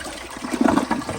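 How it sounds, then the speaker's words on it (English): A Peerless Hancock elongated ADA toilet flushes nearby, water gushing and gurgling in short surges that build and then ease off, with no talk. "All right, here's another flush."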